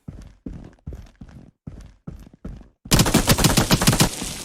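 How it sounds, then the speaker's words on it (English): Several evenly spaced thuds like footsteps lead into a sudden loud burst of rapid gunfire in a multiplayer Area F2 remake video game, sustained until the end. "you can hear the gunshots as well from the other player's perspective"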